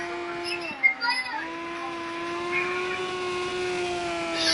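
Race car on slick tyres sliding around a wet track in harsh conditions, a steady engine drone with shifting pitch and a brief scrabbling burst early on, heard at moderate distance under commentary.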